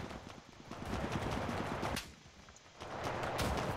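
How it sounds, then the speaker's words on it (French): Allied soldiers fire guns in a World War II battle in Russia in Enlisted: rapid machine-gun bursts crackle loudly, pause briefly near the middle, then resume. "Ah, mes alliés tirent."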